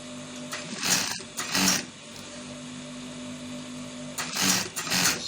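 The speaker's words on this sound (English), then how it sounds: "So you're sewing this round the tip of our V-neck" A sewing machine stitches around the tip of a V-neck on a senator top in short bursts, two quick runs early and two more near the end, with quiet pauses and a faint hum between.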